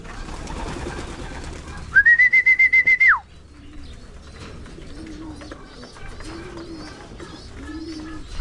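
Pigeons in a pigeon loft give several soft, low coos spaced a second or so apart, following a brief high whistling tone, with steady faint background noise.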